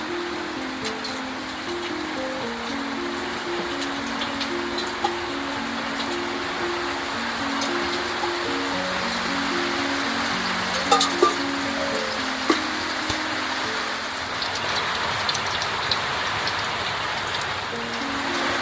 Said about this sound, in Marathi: पाऊस बघा किती जोराचा पडतोय बाहेरच्या बाजूला.